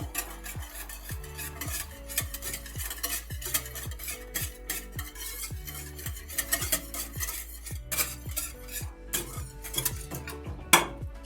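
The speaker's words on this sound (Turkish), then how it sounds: "Çırpalım." Garlic and a teaspoon of salt are whisked briskly in a bowl, the utensil knocking the sides in a fast, regular rhythm of clinks and scrapes throughout; close and steady with no talk.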